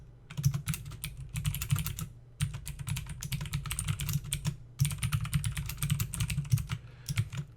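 Rapid typing on a computer keyboard, with close, dense bursts of key clicks broken by brief pauses and a low background hum beneath.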